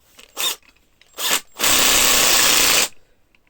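Power drill driving a small bolt into a bicycle, two short whirring bursts followed by a longer steady run of the motor, close and loud.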